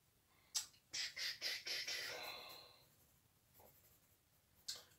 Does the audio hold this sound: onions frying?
no